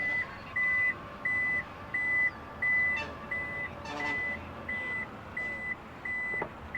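A Toyota Innova Hycross powered boot closes to a regular series of sharp electronic warning beeps, about ten evenly spaced pulses, with faint mechanical clicks and a thud near the middle and end.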